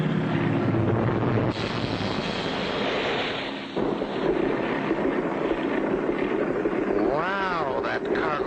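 A cartoon airplane sputters and stalls before a rough landing by a lake, a continuous rushing engine and wind roar with a wavering whine near the end, under excited narration.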